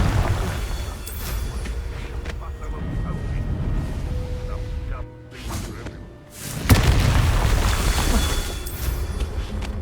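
Confringo fire-spell blasts in the video game Hogwarts Legacy, heavy booming explosions and thuds over a dense game soundscape, with a sharp loud burst near the end after a brief lull.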